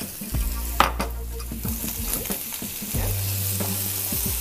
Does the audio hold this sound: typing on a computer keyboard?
no